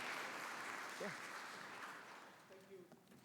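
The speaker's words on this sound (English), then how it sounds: "Please, can you give them a round of applause?" Audience applause for a panel at an agricultural investment conference, a soft diffuse clapping that fades gradually, with a brief voice and faint talk coming through near the end.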